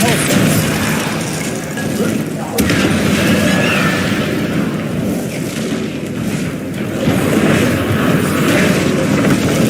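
Spell blasts and explosions boom continuously through a Hogwarts Legacy battle, dense and loud with crashing impacts, while a voice shouts spell names over the din.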